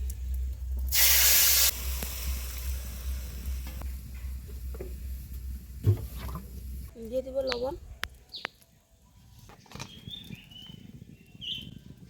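Water poured into a pan of strained tamarind pulp for a Bengali sour fish dish: a short, loud rushing splash, then quieter stirring and clatter under a speaking voice.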